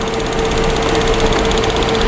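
Fuel-powered motor running steadily and loudly, a constant engine drone with a fixed hum and buzzing high overtones, no voices over it.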